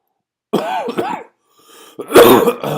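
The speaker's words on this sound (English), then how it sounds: "Did not get rid of the cough." Close, loud throat clearing with a rough hacking sound, followed after a short pause by a harsh cough burst.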